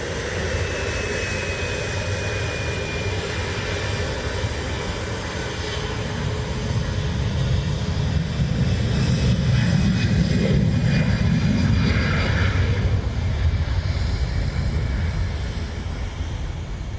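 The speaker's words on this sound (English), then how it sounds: "Transition to takeoff." A jet airliner takes off at Dublin Airport, its engines holding a steady broadband roar that swells slightly toward the middle and stays loud and continuous throughout.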